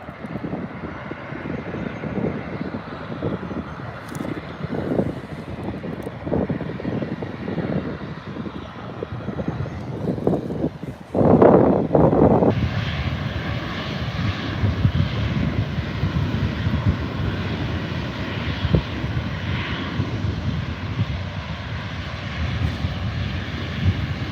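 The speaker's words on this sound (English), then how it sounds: "I'll be quiet and let you enjoy the G90 spool up" A Qatar Airways airliner's GE90 jet engines spool up at Adelaide Airport, a broad, loud roar that swells partway through and then holds as a steady, powerful rumble, heard from a distance.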